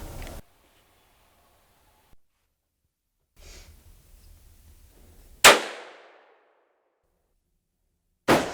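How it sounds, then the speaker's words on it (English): A rifle shot during a whitetail deer hunt: one sharp, loud report with a trailing echo after quiet rustling and a low rumble, followed by another abrupt crack at the very end. "Shooting."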